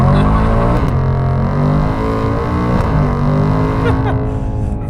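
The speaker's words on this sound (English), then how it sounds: "we're going to try out 0 to 60 inside of the Super Snake." A Shelby Super Snake, a rear-wheel-drive high-horsepower car, pulls hard from 0 to 60 with a loud, steady engine roar that stays close and dense throughout, with a brief voice mixed in.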